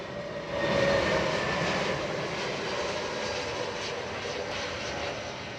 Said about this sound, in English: A wonderful Jetstar in from Adelaide.